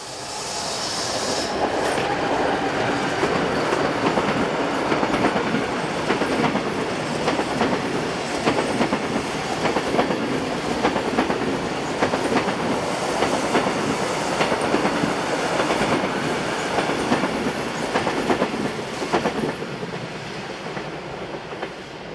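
A Swiss Class 460 electric locomotive hauls a passenger train south on the Gotthard north ramp above Wassen, heading away; a loud, steady rumble of rolling wheels with rhythmic clickety-clack and faint squeal continues throughout.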